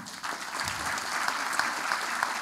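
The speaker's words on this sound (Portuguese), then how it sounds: "a cada nome, vamos fazer uma, um grande aplauso a, a essas pessoas" A crowd at a welcoming ceremony gives a sustained round of applause, an even, dense clatter of many hands with a few sharper claps standing out.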